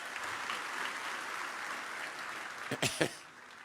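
A church congregation claps together during a Sunday evangelical service, a steady wash of applause that carries on for several seconds before a few louder bursts near the end.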